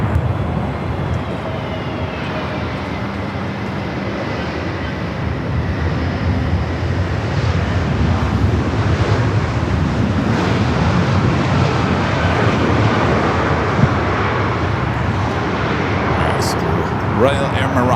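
Air Canada airliner landing on runway 24 right at Los Angeles airport in a 14-knot wind, a loud continuous engine roar with wind rush lasting throughout.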